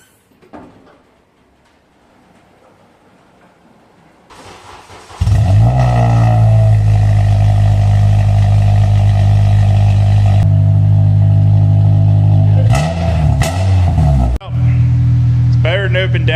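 A car with a modified exhaust, tamed from an open downpipe but still loud, starts up after a quiet stretch and settles into a loud, close idle with a couple of brief revs, voices talking over it.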